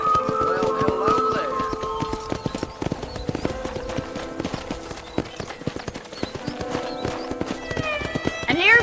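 Horse hooves clip-clop on ground at a ranch corral in the Red Dead Redemption game, close and rhythmic, with a whinny and voices and music underneath.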